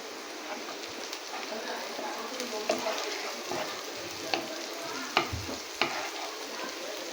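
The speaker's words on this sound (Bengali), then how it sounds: "এবারে সামান্য কড়াইতে তেল দিয়ে এবং ছোটো এলাচ, শুকনো লঙ্কা, জিরে ফোড়ন দিয়ে দিলাম" Cardamom, dried chillies, cumin and cinnamon sizzle in hot oil in a kadai, a soft steady crackle with occasional louder pops and stirring clicks.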